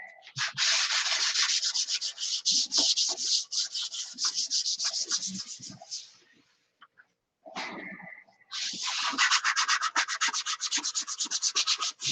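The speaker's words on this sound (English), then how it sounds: "sanding out the primer on that" Primer is sanded off a car body panel: steady rasping strokes at close range, loud and continuous, with a short pause before the sanding picks up again.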